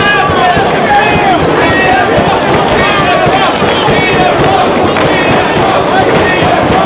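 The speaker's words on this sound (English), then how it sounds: "Crowd showing their support for Punk." Wrestling crowd at an indoor independent show cheers and chants in support of a wrestler, a dense continuous roar of many voices with shouts rising above it throughout.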